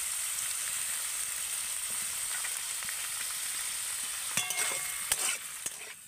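Potato and carrot pieces fry with a little salt in a pan, a steady hiss of oil under occasional utensil clinks and scrapes near the end, no talking.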